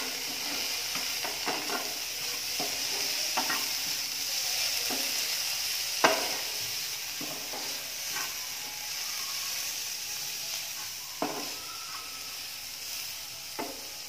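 Curry leaves and coriander leaves are stirred in a hot frying pan for beef cutlets, giving a steady sizzle with repeated scraping clicks of the spoon against the pan, close and alone.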